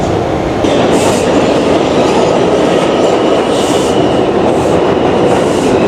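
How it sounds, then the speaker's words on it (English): A New York City subway train roars loudly, wheels clattering over the rails with a steady rumble and occasional high screeches, no voices heard. "After I board this train, I just need to go one stop to 34th Street"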